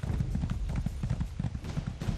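Rapid horse hoofbeats clip-clop in a steady galloping rhythm in The Elder Scrolls Online, close and fairly quiet, with a game-like quality and no talking.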